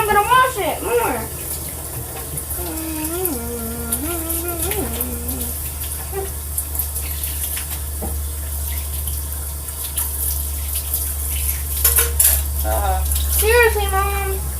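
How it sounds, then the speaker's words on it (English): Tap water runs steadily into a sink as a spoon is rinsed after making slime, a constant close rush lasting throughout. People talk over it the whole time. "I'm rinsing it off and then I'm gonna wash it more."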